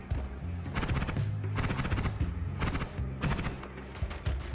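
Rapid bursts of gunfire from an enemy in the video game Noita, repeated machine-gun-like volleys in several clusters, loud and close, with no speech over them.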